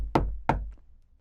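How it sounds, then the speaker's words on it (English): Two firm knocks on a wooden door, close and distinct about a third of a second apart, followed by a faint third tap and a quiet decay. "He knocked on the door,"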